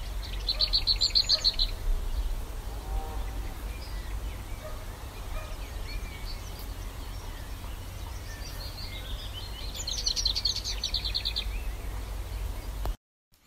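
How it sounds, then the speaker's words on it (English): A lesser whitethroat sings two distinct rattling snatches of song at dawn in the north of England, heard at moderate distance over a low rumbling background. "This bird is a lesser whitethroat."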